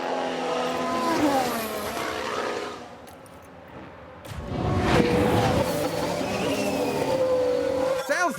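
A race car spins out during an F1 Manager 22 race, with engines revving up and down over screeching tires, continuous and fairly loud.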